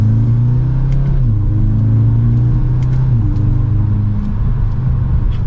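A 2023 Audi S3 Premium Plus accelerates from second gear, its engine droning steadily and loudly from inside the cabin, the pitch stepping down briefly then holding under a constant road rumble.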